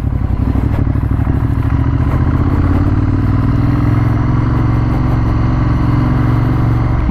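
A 2015 Ducati Monster 1200S naked motorcycle engine with Öhlins suspension runs close and loud with a steady, lumpy throb, the pulsing note settling lower and smoother partway through.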